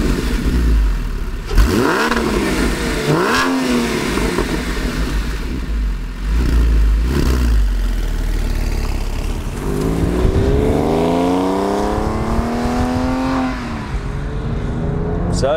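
A Porsche 996 Carrera 4S engine starts and revs several times in sharp bursts, then settles into rising and falling acceleration as it pulls away, loud and close.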